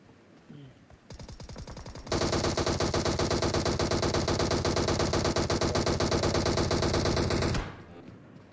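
Sustained automatic gunfire in BGMI (PUBG Mobile), a lighter burst first, then a long, loud, rapid machine-gun stream lasting several seconds before cutting off abruptly.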